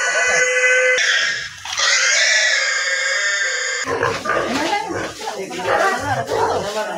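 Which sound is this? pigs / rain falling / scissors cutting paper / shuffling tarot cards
pigs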